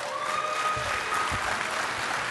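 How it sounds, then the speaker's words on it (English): Conference audience at a DEF CON hacker convention giving a thin, scattered round of applause, steady handclapping filling the hall for a couple of seconds with no talk over it. "That is a lame round of applause."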